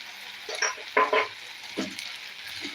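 Potato curry seasoned with garam masala being stirred in a pan, a few scraping, sizzling strokes in uneven bursts, close and moderately loud with no talking over it.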